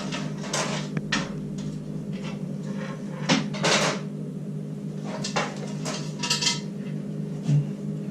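Metal plates from a Power Smokeless Grill XL Deluxe, a non-stick grill plate and a griddle plate, are handled during unboxing, giving a string of close clanks, knocks and scrapes at an uneven pace.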